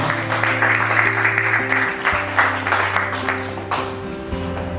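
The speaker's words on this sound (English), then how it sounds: "Please have a round of applause for this." A small audience claps at a book discussion event in a lounge. The applause is moderately loud and continues over sustained instrumental music with stepping tones.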